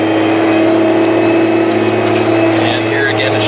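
Challenger MT765B tractor pulling a ripper through the ground on auto-guidance, with a loud, steady diesel engine drone and a constant tonal whine, heard close from the cab.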